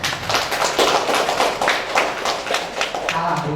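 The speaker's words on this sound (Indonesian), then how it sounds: "Berikan aplaus dong" Crowd applause at a clinic accreditation event for Klinik As-Syifaa in Wakatobi, a dense steady patter of many hands clapping for several seconds with voices mixed in.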